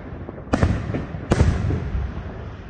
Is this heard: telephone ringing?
no